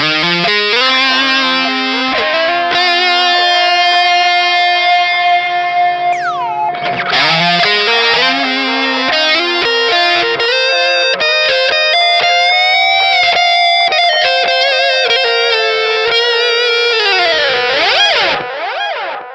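Distorted electric guitar chords through a GE200 tape delay effect ring out with repeating echoes trailing behind each note, the delayed copies smearing and decaying as the playing continues.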